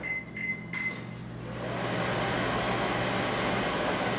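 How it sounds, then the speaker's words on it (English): Microwave oven heating a burger: a few clicks and short beeps as it is set, then a steady low hum with fan noise that starts up and runs on evenly. "I need to put this burger in the microwave."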